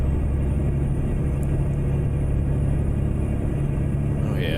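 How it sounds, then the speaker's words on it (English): A loud, steady truck engine rumble in a driving simulator game, a louder engine than a Cummins, holding around 1400 RPM with a constant low drone throughout. "This is definitely a louder engine than the Cummins."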